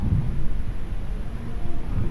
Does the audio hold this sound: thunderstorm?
yes